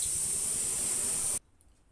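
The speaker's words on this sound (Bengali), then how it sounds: "জিরে ফোড়ন দিয়ে দিলাম" Cumin seeds hit hot oil as a dal tempering starts, giving a loud, steady hiss that runs for over a second and then cuts off abruptly to near silence.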